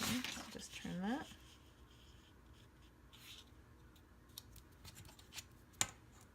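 Cover material for a book binding project is trimmed by hand, with soft scraping and cutting strokes and a few small clicks, under quiet talk at the start.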